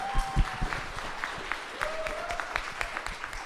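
A conference audience claps for military service members in the crowd, moderate and somewhat uneven, with a few sharper claps and crowd murmur standing out.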